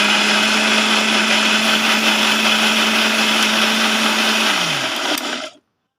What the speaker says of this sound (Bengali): এবার আমি এটাকে ব্লেন্ড করে নেব।